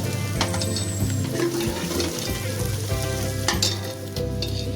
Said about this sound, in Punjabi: ਸਾਡਾ ਤੜਕਾ ਜਿਹੜਾ ਹੈ ਜੀ ਅੱਧਾ ਭੁੰਨ ਹੋ ਗਿਆ ਜੀ ਤੇ ਥੋੜਾ ਜਿਹਾ ਇਹਨੂੰ ਹੋਰ ਭੁੰਨਾਂਗੇ